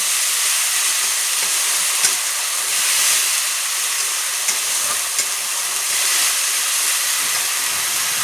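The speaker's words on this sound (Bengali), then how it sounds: "এখন সুন্দর করে মশলাটা কষিয়ে নেব।" Onion, garlic and spice paste sautéing in a hot pan gives off a loud, steady, dense sizzle that holds unbroken throughout, with no voices.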